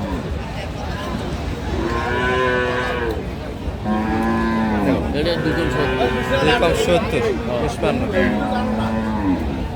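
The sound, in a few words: cows mooing at a cattle market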